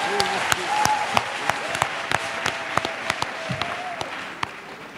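A church audience breaks into steady, close applause with sharp individual claps throughout, while a sustained tone and a voice carry faintly beneath the clapping.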